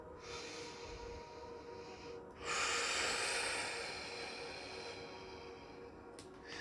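A deep breath drawn in audibly, a long airy inhale rising partway through, close to the microphone, with a faint steady hiss around it and no talking.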